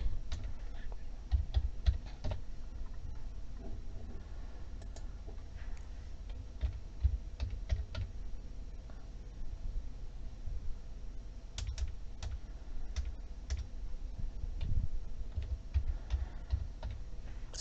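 Steady typing on a computer keyboard while filling in an online form, with quick irregular key clicks running throughout at close range and a little speech in the background.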